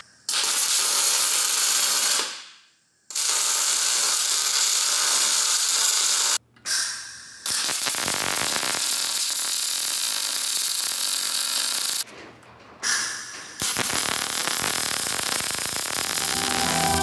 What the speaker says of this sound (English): I'm going to weld that on now so it does not move